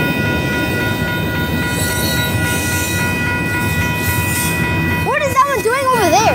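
A Union Pacific freight train rolls past in El Paso, a loud, steady rumble of wheels and cars that continues throughout, with sharper wavering tones rising near the end.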